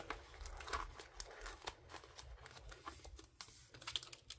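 Handwritten paper planner stickers are peeled up off their backing sheet, giving soft, close crinkling and light tearing ticks in a quiet, irregular series, with no voice.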